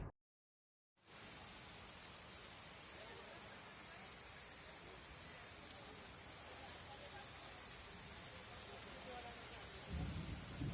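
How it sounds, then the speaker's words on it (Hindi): Heavy stormy rain pours over Nanded city in July: a dense, steady hiss starts after a moment of silence and holds throughout, with a low thunder rumble swelling near the end. "नांदेड़ शहर में तूफानी बारिश,"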